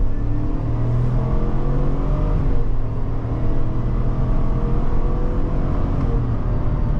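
A 2021 Chevrolet Suburban LT, a huge SUV, accelerating hard in a 0-60 run, with a steady, loud low engine drone heard from inside the cabin and continuous for the whole stretch.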